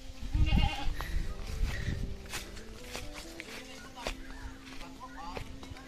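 Goat bleating outdoors on a farm, a few loud calls early on and then fainter ones, with footsteps, birds and background noise around.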